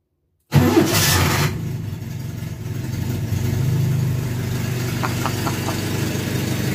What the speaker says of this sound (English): I built this engine completely at home myself